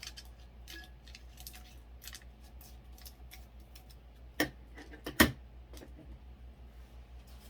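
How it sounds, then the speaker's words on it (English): Scissors cutting the bottom edge of a printed sticker, quiet background with small ticks, then two sharp close snips near the end, no voices. "I'm going to cut this bottom edge out with my scissors just to get it somewhat even."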